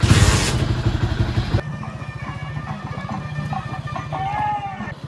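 A motorcycle rides along a village road, its engine chugging in a steady close-up rumble after a loud, gusty start. Faint voices sit under the engine.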